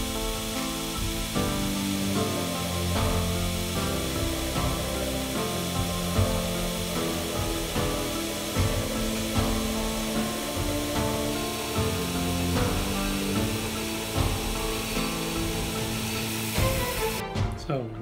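A steel sword blade ground with a power grinder, a continuous harsh abrasive whine with shifting pitch and short interruptions, close and loud throughout.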